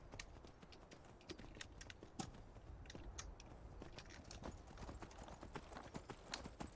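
Horse hooves clip-clop steadily in the Skyrim video game as a saddled horse is ridden away from a town, a quiet, even trotting rhythm under faint ambient game sound.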